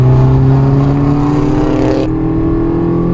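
A turbocharged Mini Cooper S engine roars steadily and loudly from inside the car as it accelerates hard, with a shift in tone partway through as the turbo kicks in.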